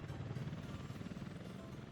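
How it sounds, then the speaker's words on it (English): Helicopters fly in during a game of Workers & Resources: Soviet Republic, a low, continuous rotor rumble with a rapid pulsing throb that stays steady and moderately loud for two seconds. "See, as the helicopters land, they will draw in more workers."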